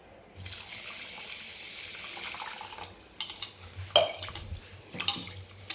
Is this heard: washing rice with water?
yes